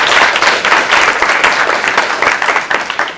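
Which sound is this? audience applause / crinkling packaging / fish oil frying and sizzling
audience applause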